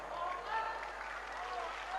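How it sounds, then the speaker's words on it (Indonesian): A sermon audience applauds with steady, dense clapping that blends into a continuous wash, heard at moderate distance with a voice faintly present beneath it. "Tepuk tangan melulu."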